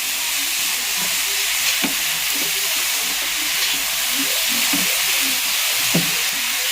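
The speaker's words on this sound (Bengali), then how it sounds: "নাড়তে থাকতে হবে, নাড়তে নাড়তে যেমন যেটুকু সিদ্ধ হবে সেটুকুই" Garlic chicken fried rice cooked in ghee sizzles steadily on a high flame, a constant close frying hiss broken by occasional spatula clinks and stirring knocks, with no talk.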